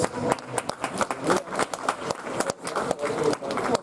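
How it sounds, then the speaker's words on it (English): An audience at a track meet claps in a steady patter of scattered hand claps, moderately loud and continuous, with no voices standing out. "Ladies and gentlemen, give him a round of applause."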